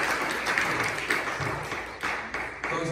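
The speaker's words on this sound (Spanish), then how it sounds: "Denle un aplauso al Señor, hermano" A church congregation applauds during a Spanish-language sermon, a dense, continuous wash of many hands clapping at once, loud and sustained for the whole stretch without any voice on top.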